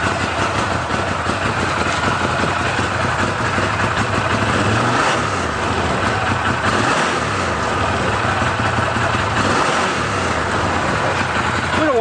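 A 2014 Arctic Cat Wildcat X Limited side-by-side with a hotter cam runs steadily close by, its engine note rising and falling gently with light throttle blips, loud and continuous.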